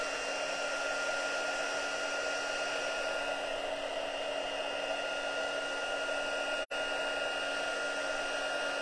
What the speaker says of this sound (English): Gonna dry it with my heat tool.